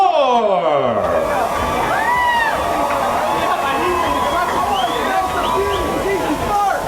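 Crowd at a pretty car contest at the Amador County Fair cheers and calls out for a car, a loud, continuous mix of shouts, whoops and babble that fills the whole stretch, with voices mixed in.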